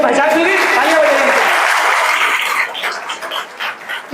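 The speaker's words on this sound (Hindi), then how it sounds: "तालियां बजाइए।" Audience at a motivational talk clapping loudly and steadily, the applause thinning and tapering off toward the end.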